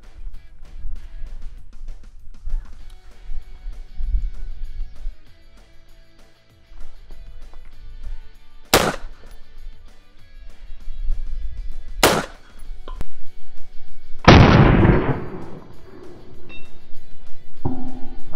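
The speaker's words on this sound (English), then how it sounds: "So I shot that green tip right on top of the 9mm rounds." Three sharp, loud rifle shots of 5.56 green tip rounds fired at level 3 body armor crack out several seconds apart over quiet background, the last followed by a longer rumbling tail.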